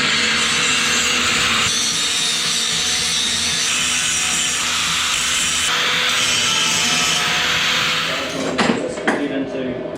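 A power tool grinds down a weld on a steel motorcycle sissy bar, a steady, loud, broadband abrasive whine that holds for about eight seconds before shifting and tapering off near the end.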